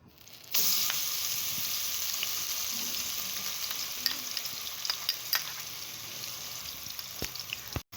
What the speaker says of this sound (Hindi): ये हमने एक प्याली ऑयल लिया है, इसको हम गरम कर लेंगे। इसमें हम ये पेस्ट ऐड करेंगे।